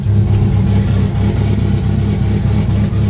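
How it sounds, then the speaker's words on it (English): A black Dodge SRT-4 running steadily at close range, its engine a loud, continuous low rumble with slight revving fluctuations throughout. "That's the black car running."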